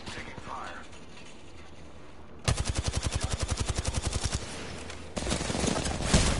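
Rapid automatic gunfire in the Apex Legends video game, a fast, even rattle of shots after a quieter opening, then another loud burst near the end, with a player's voice talking over the fight.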